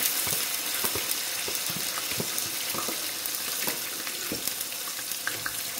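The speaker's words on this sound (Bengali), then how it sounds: "এখন দিয়ে দিলাম আমি পেঁয়াজ, যেহেতু রসুনটা লাল লাল হয়ে গেছে" Onions frying in oil with browned garlic for a beef tripe bhuna, a constant loud sizzle with scattered crackles and occasional stirring scrapes.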